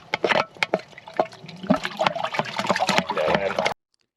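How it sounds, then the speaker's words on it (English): Water rushes and gurgles down a drain just cleared of heavy grease blockage, a continuous turbulent flush with irregular splashing bursts, loud and close, then cutting off abruptly near the end. "That is flushing, it's not filling like that."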